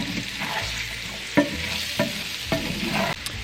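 Diced onion and potatoes fry in a skillet with a constant sizzle, broken by a few sharp scrapes and knocks of stirring; no voices.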